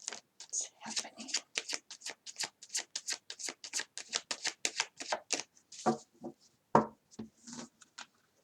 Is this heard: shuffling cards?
yes